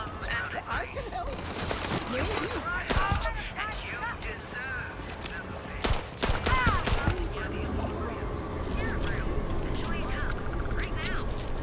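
Video game gunfire against bad guys pops in scattered bursts and single shots over a busy mix of game sounds and voices, fairly close and uneven in rhythm.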